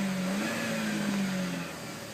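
2012 Chevy Impala LS engine held at high revs, a steady raspy drone with a slight pitch rise and fall, heard close and alone.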